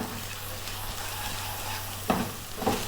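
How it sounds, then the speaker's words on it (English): Onions with garlic, salt and pepper sizzle steadily in a pan for Ethiopian breakfast eggs, a constant frying hiss with a couple of brief stirring scrapes near the end. "the onions are cooking really nicely"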